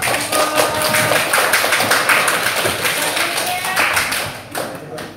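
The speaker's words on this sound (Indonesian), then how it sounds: "Kasih aplaus dulu." A classroom of students applauds a student group, a dense run of many hands clapping close by, steady for several seconds before thinning out at the end, with voices mixed in.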